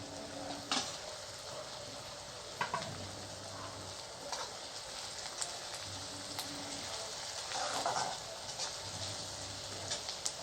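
Onion frying in a pan on a gas stove, a soft, steady crackling sizzle with occasional clinks and stirring scrapes throughout, fairly quiet.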